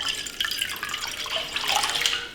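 Water pours from a tap or jug into a cooking pot, about one and a half cups, a bright splashing stream that runs continuously for a couple of seconds with no voices.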